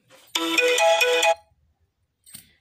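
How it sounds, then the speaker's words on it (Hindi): A mobile phone rings with an incoming call, a loud bright melodic ringtone lasting about a second before stopping, followed after a pause by a short faint burst of sound. "इसी में मेरे पांडे जी का फ़ोन आ रहा है"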